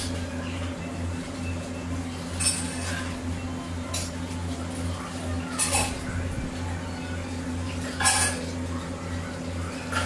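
Dishes, pots and utensils being washed at a home kitchen sink after breakfast and tea, with occasional clinks and clatters over a steady low hum, someone talking at times.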